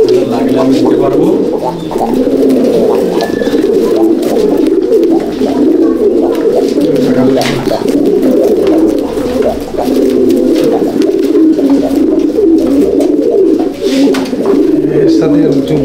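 Fancy pigeons with bold face markings coo continuously in a loft, a dense layered chorus of low throaty calls, close and loud, while someone talks over them at times.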